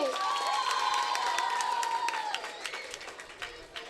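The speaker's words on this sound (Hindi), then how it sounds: "अगर प्रस्तुति पसंद आई हो तो जोरदार तालियां बजाइए।" An audience at a community student-honours ceremony claps and cheers in a dense burst of applause, loud at first and thinning out toward the end, with a sustained tone from the sound system ringing under the opening seconds.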